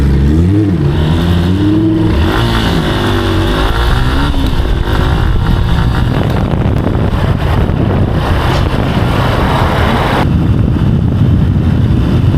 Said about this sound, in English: Just letting it turn over, half choke for a bit, get her warmed up.